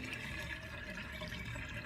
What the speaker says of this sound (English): can actually hear water going down the plug hole